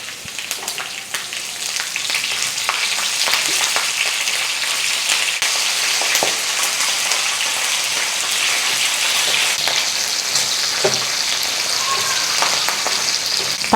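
Slit green chillies and garlic fry in hot oil for a raw tamarind chutney, a loud, dense crackling sizzle that runs steadily throughout with scattered sharp pops and no talk.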